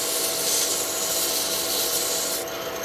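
Steady, close abrasive rubbing of sandpaper worked by hand along a fine curve of a brass hammer head made from a kit, continuous for the whole stretch with no pauses and no talk.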